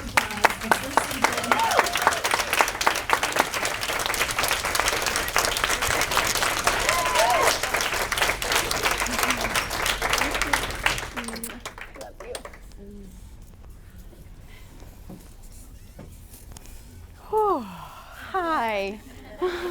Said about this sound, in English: let's welcome Deanna Deacon, and with a standing ovation and round of applause, our first speaker